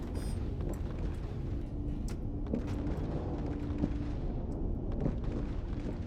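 Ship cannon fire in the Star Citizen space-combat game: a dense, continuous low rumble with scattered sharp booming impacts, loud and sustained throughout, with no voices.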